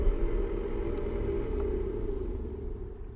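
A faulty blower motor fan in a Hyundai Elantra with 83,000 miles runs with a steady, close humming drone and a faint whine, continuous and alone for the whole stretch.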